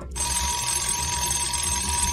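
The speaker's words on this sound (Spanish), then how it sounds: "Y hasta reloj alarma" An alarm clock rings steadily and loudly throughout, with a continuous dense high-pitched bell tone and no talking, heard in a Skibidi Toilet animated series.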